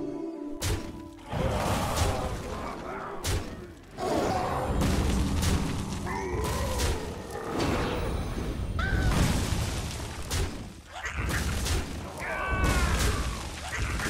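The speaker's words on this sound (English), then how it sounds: "Oh wow, so many explosions." Repeated booming blasts and crashes go off in quick succession, loud and layered over a busy Hearthstone Battlegrounds game soundtrack.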